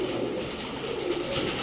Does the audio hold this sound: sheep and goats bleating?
no